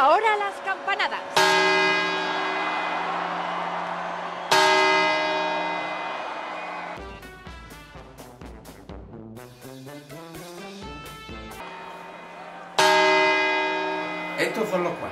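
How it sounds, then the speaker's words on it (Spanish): Church bells strike the New Year's Eve chimes in Spain, with loud resonant single strokes and long ringing decays, then a quicker run of lighter quarter chimes before the heavy strokes return. People talk faintly underneath. "Ahora las campanadas."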